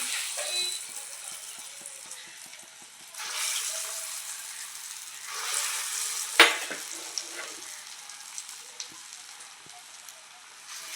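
Black-eyed pea fritter batter is dropped into hot oil. Bursts of close, loud sizzling swell as each spoonful goes in, with a sharp splash and crackle midway, then a steady frying hiss.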